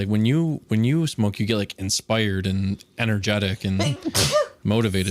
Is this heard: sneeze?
yes